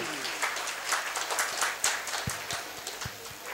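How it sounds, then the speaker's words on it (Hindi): Loud applause from an audience at an awards ceremony, the Jalan Shram Shakti Samman Samaroh, with dense clapping punctuated by a few sharp, louder claps and some faint voices underneath. "जितनी ताकत है ताली बजनी चाहिए।"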